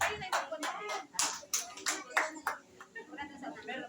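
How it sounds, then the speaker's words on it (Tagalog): A congregation in a church claps in uneven, rhythmic bursts, many hands at moderate distance, while voices carry on beneath the applause. "Isa pong mataas na palakpak para sa Diyos sa buhay."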